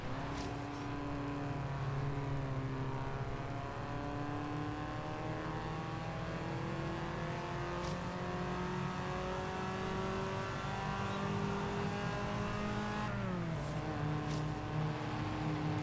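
Race car engine in Forza Horizon 3, revving hard through repeated upshifts with rising and falling harmonic whine, loud and continuous, briefly dipping as it shifts near the end.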